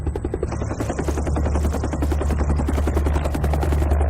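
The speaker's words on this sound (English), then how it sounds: "Our flight deck will only take one helicopter at a time landing." Helicopter landing on a ship's flight deck during the 1975 evacuation of South Vietnam, its loud, steady rotor thump pounding throughout with engine roar and no voices.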